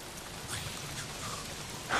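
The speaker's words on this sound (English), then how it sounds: "If it's not the freaks, it's the goddamn rain." Steady rain falls in the Days Gone game world, a soft continuous patter and hiss with slight swells and no talking.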